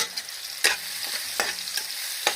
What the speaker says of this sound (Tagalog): Ngayon, nagluluto ako ng itlog na may kamatis.